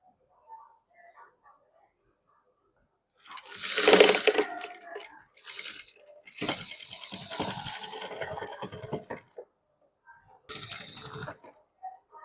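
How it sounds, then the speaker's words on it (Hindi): Sewing machine stitching suit fabric with a few mechanical bursts of whirring run, the longest and loudest mid-clip, separated by quiet pauses. "यहाँ तक हम सिलाई लगा लेंगे"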